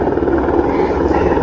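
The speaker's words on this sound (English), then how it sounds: "is the light flight helicopter coming in." A medical Aerocopter AS-350 helicopter comes in to land, its rotor and engine giving a steady, loud, close droning whir with no break.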